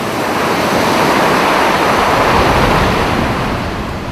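Ocean wave breaking and collapsing in shallow water, a loud, steady roar of churning surf and foaming wash that holds through the whole stretch without any voices.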